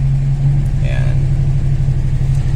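Toyota Corolla Big Body GLi engine idling at high RPM, a steady close rumbling drone that stays constant, with brief talk over it.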